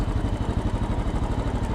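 A Royal Enfield Bullet 5 motorcycle engine running nearby, a steady low, rhythmic thumping chug that fills the short moment.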